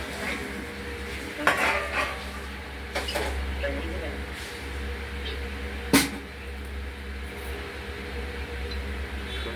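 Prawn malai curry with coconut milk being stirred in a pan, a few distinct metallic scrapes and clinks of a spoon against the pan over a low steady hum, close, with a voice speaking in places.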